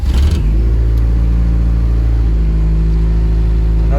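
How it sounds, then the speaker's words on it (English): A Honda Civic VX with a D15B engine idles loudly and steadily just after starting, with a low droning hum and a brief surge at the very beginning. "So we'll go ahead and start this car up."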